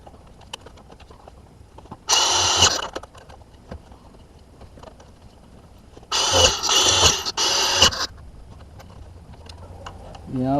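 Aggressive drill bit boring into a log for mushroom inoculation, two loud bursts of grinding noise, one short and one longer broken run, with quiet pauses between them.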